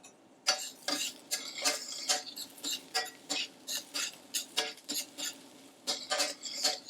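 Chili being stirred into a dish in a cooking pot, a steady run of clinking, scraping utensil strokes against the pot, close and moderately loud with no talking.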